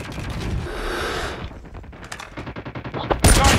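Rapid bursts of gunfire from the mobile shooter Call of Duty Mobile, sustained automatic fire at first, then scattered individual shots and a loud final volley.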